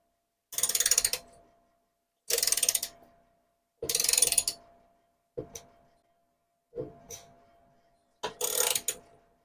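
A 3/4-inch socket on a ratchet wrench runs down the drain plug of an MTD lawnmower, six separate bursts of quick ratcheting clicks, the first three long and loud, the later ones shorter, close and with no talking.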